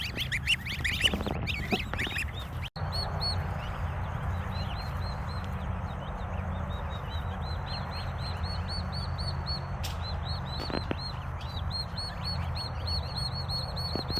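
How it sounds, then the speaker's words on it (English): Farm birds, geese and turkeys, call with scattered honks and chirps across a steady outdoor background hum, fairly faint and distant, with a few brief clicks and knocks. "Move some more geese and a few more turkeys over here."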